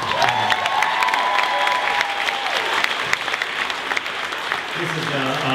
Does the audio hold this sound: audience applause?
yes